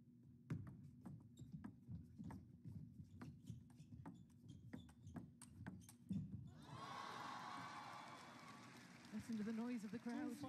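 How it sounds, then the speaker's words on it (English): Crowd at a 2025 US Smash women's doubles quarterfinal table tennis match swells into loud cheering and applause after a rally of sharp ball clicks, over commentary. "Listen to the noise of the crowd."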